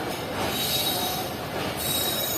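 A train at Khanewal railway station grinds along with loud, sustained wheel squeal and metallic screeching, heard close and continuous without speech.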